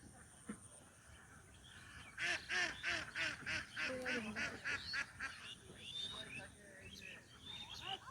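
A flock of ducks quacks in a loud, rapid run of honking calls at a rural spot, fairly near and continuous for several seconds, with faint background noise.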